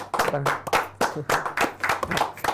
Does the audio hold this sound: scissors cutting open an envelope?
no